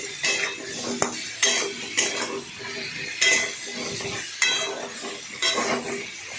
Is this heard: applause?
no